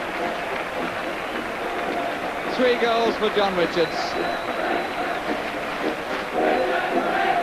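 A large football crowd at a 1976 Division 1 match between Wolves and Newcastle United cheers a Wolves goal, a broad rolling roar that swells in bursts beneath a commentator's continuous talk.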